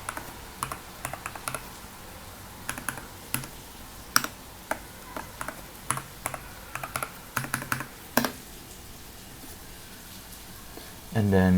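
An administration password is typed on a computer keyboard, giving irregular bursts of light, close key taps with short pauses, plus one sharper keystroke. A brief louder thump comes at the very end.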